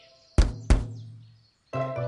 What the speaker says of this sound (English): When you tap it and the watermelon sounds like this.